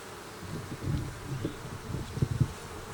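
Honey bees drone in a steady low buzz around a hive, with a few louder passes swelling near the microphone before easing back into the hum.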